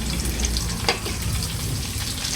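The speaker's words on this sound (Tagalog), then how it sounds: "Lalagay na po niya yung karne. Naigisa na po niya yung bawang at sibuyas." Meat going into a pan of sautéed garlic and onion for Filipino adobo, giving a steady, close sizzle and frying crackle with a few stirring scrapes and no talk.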